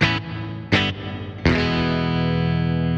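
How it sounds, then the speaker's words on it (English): Electric guitar chords through a Blackstar amPlug2fly headphone amp strummed three times, each ringing into a long, splashy spring reverb tail that lingers and shimmers after the last strike. "almost like a long spring reverb."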